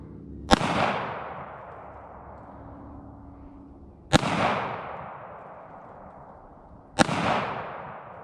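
Three sharp, loud gunshots from a Taurus G3C pistol ring out several seconds apart, each a hard crack trailing into a short echoing decay outdoors.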